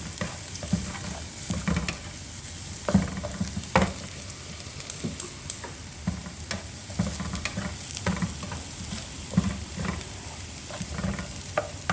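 Chopped garlic fries in a pan while being stirred, giving a close, soft sizzle broken by sharp scrapes and clacks of the spoon at irregular intervals, with no talking.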